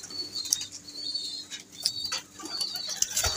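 Teddy pigeons kept in a loft in the Emirates coo softly and flutter nearby, with faint wing flaps and a few sharp chirps over a low steady background hum.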